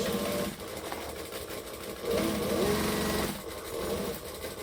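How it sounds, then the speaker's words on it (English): A sewing machine stitching forward and then back stitching while a garment is sewn, with a steady mechanical whir that surges in bursts of running and eases off between them. "So we're going to stitch and back stitch"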